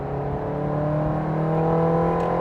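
Inside a Ferrari 360 Challenge Stradale on the road, a loud, steady engine and exhaust drone fills the cabin with layered harmonic tones, rising slightly in pitch and volume throughout.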